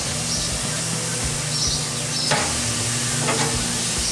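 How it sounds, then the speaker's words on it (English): Chicken breasts sizzling on a hot grill, a steady bright crackle and hiss running throughout, close and fairly loud, with a few small clicks and taps over it. "And then I'm gonna put these breasts down on the grill."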